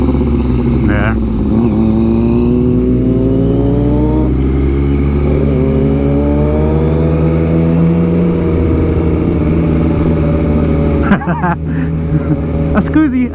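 A motorcycle threads through busy Fourth of July traffic, its engine droning and revving up and down continuously, with nearby cars around it and a sharp clatter near the end.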